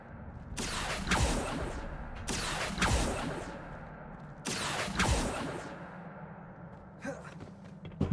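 The Accio summoning spell is cast three times in Hogwarts Legacy, each a bright rushing whoosh that swells and fades in roughly even succession. A fainter flicker of magic crackles at the end.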